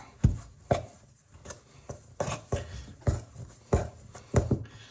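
Sourdough ingredients being mixed together into a dough ball in a bowl, with rhythmic, fairly close thumps and scuffs repeating roughly every half second.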